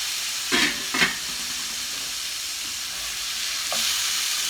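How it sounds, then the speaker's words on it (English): Plant-based bacon mixture sautés on medium heat in a pan, giving a steady close sizzling hiss with a few brief scrapes of stirring. "So we just let it saute a little on medium."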